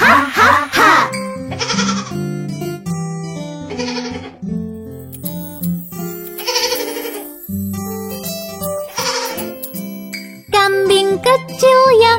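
Children's song about a little goat, with bleating goat sounds woven between sung, tuneful notes and a jingly, tinkling accompaniment, loud and rhythmic throughout.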